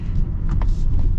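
A 2024 Mazda CX-90 PHEV running in sport mode gives a steady low engine rumble heard from inside the cabin, continuous and fairly loud with no talk.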